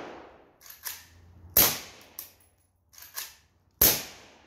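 Suppressed Zastava M90 rifle fired single shots with .223 ammunition on gas setting 1, heard as four sharp, fairly loud reports spaced about a second or two apart, each trailing a brief decay, with fainter clicks between and no voices.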